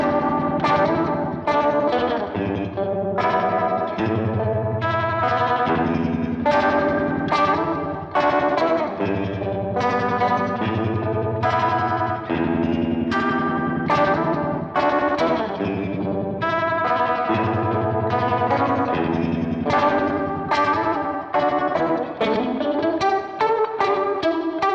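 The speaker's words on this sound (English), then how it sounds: "you can set the speed and intensity knobs to various parameters to modify the waveform and get various modulations from your guitar sound" Electric guitar run through a Thermion PowerVibe modulation pedal, a dense, continuous wash of strummed chords with a swirling, wavering vibe effect, loud and steady throughout with no talking.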